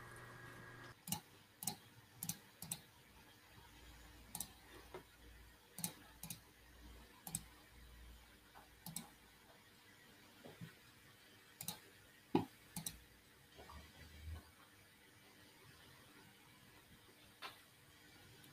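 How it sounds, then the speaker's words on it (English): Irregular bursts of keystrokes on a computer keyboard, a few quick clicks at a time with short pauses between, close and fairly quiet against a low room hum, with no talking. "He's typing."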